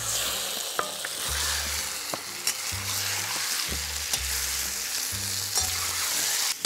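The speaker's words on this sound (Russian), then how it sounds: "И сразу отправляем сюда наше замаринованное уже мясо." Marinated meat sizzling and frying in a small amount of vegetable oil in a kazan, a steady loud crackle with repeated scraping and stirring strokes, no talking.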